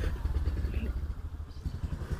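A Honda Scorpio motorcycle with a G plate idles nearby, its low steady engine rumble continuous throughout with a slight rise in revs toward the end.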